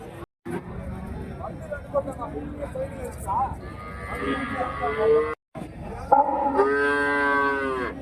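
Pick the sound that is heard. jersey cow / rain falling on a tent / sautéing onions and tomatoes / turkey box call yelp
jersey cow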